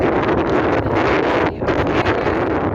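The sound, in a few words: strong wind outdoors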